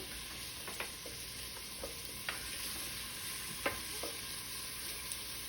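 Curry powder and cinnamon toasting in a pan with garlic and onions for butternut squash soup: a steady, quiet sizzle runs throughout, with occasional soft clicks and taps as the spices are stirred, and no voices.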